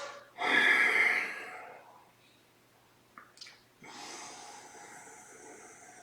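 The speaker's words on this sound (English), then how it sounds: "That is called 3-part breathing." Yoga three-part breathing: a loud, deep nasal inhalation, close to the microphone, then a pause and a long, steady exhalation.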